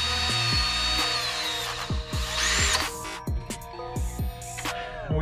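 A power drill bores a hole, its motor whining steadily while the bit bites in a series of close, loud bursts and brief pauses across the span.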